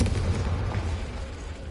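A Confringo spell blast in the Hogwarts Legacy video game, a deep booming explosion with a heavy low rumble that fades out over a second or so.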